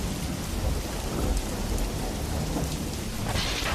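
Heavy rain pours steadily on a dark night, a dense constant roar with low thunder rumbling through it, with no voices.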